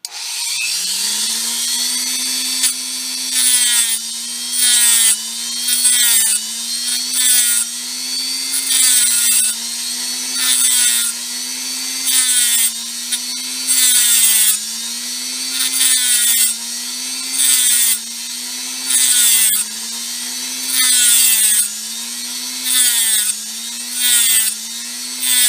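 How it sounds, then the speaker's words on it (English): Dremel rotary tool cutting off a capacitor in a small pocket LED flashlight: a continuous high whine with a wavering pitch, close and loud, broken by regular grinding bursts as the bit bites in. "I'm going to cut off this capacitor here with the Dremel."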